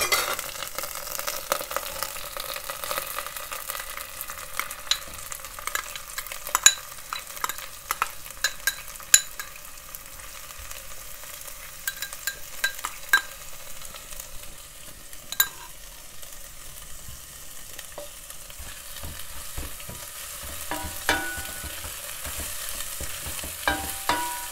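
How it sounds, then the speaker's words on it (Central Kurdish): Washed lentils stirred into browned onions frying in oil in a pot for lentil soup, a steady soft sizzle with frequent scraping stir clicks throughout. "من یەکسەر نیسکەکە کەمە ناو ڕۆڵە پیازەکەەوە"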